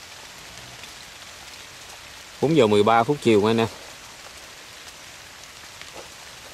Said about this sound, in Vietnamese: trời mưa tới nè.